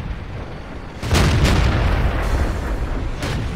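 A French tier 5 heavy tank in World of Tanks fires its cannon: a heavy, booming blast after a quiet start, followed by rumbling reverberation and a couple of fainter impacts, loud and close.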